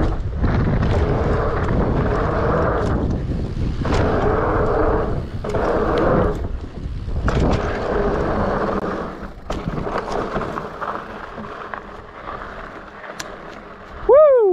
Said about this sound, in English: Oh man, it is windy.